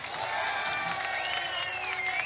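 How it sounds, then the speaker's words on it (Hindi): A large crowd at a political rally in Bhavnagar, Gujarat claps and cheers in a steady, dense wash of applause that holds loud throughout. "ठोको ताली।"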